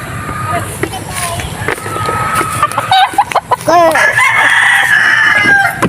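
White Kelso gamefowl rooster crows clearly nearby among other fowl clucking at a farm range, with someone talking over the birds throughout.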